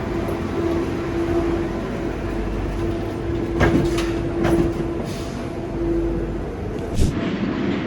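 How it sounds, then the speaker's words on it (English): Steady low rumble of a train running through the Channel Tunnel under the sea, carrying a motorbike, with a faint hum and a few brief clanks and rattles. "I'm on a train under the sea between France and United Kingdom."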